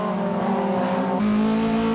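A Toyota AE86 Hachi-Roku race car at full throttle in a 2004 Tsukuba N2 race, its engine droning loud and steady with a sudden shift in tone partway through.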